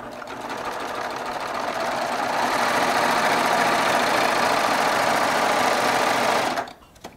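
A Baby Lock Triumph serger stitches an elastic waistband onto fabric, its motor whirring steadily and loudly, building slightly in speed and then stopping abruptly near the end, with no talk.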